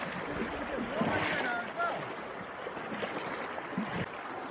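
A steady rush of glacier-fed water from Noorie Waterfall in Haripur, Pakistan, fills the scene, broad and continuous, with wind buffeting and a faint voice briefly audible beneath it.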